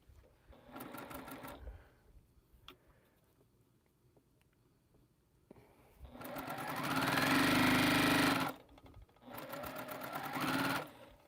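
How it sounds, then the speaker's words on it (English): A sewing machine stitches two quilt rows together in short runs, a brief burst near the start followed by longer steady stretches of motor whir, with quiet pauses between. "Now we'll sew these 2 rows together so we don't lose those."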